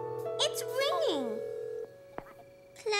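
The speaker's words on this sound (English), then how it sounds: "It's ringing." A telephone rings with steady electronic tones, while a voice speaks briefly over it at the start.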